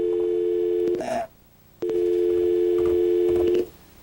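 A telephone line tone heard after hanging up on a caller during an on-air call-in show: a loud, steady electronic tone that cuts out for about half a second, then resumes and stops again, with no talking.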